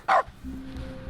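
One short, sharp dog bark from The Stanley Parable, followed by a low steady in-game hum.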